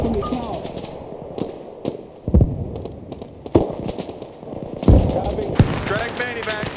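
Gunfire in the military video game Arma Reforger, with sharp shots and short bursts cracking at irregular intervals, some close and loud, others farther off, while people talk urgently over the fighting.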